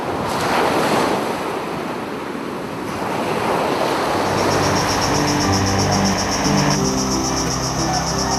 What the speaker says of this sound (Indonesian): Cuaca laut nih gelombang besar,